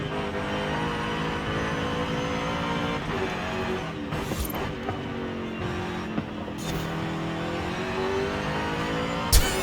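Supercharged Jaguar SVR engine in Forza Horizon 5 drones steadily at high revs, its pitch sweeping up and down through gear changes, with a few brief sharp transients and no talking.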